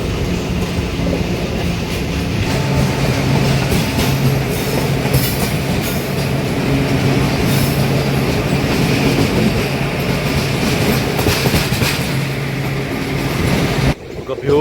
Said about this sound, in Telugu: ఇక్కడ చూడండి ప్యారలల్ గూడ్స్ ట్రైన్ అయితే వెళ్తుంది